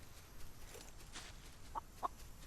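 Chickens cluck in the Solarpunk video game: two short, brief clucks stand out near the end over a quiet, steady game ambience, fairly faint and with no talking.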